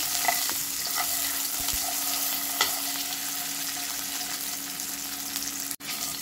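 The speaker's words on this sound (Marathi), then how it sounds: "अंडी आपण तेलात छान अशी फ्राय करून घेऊया." Eggs frying in oil in a pan for a potato egg curry, a dense continuous sizzle close up with a few faint clicks and one sudden brief dropout near the end.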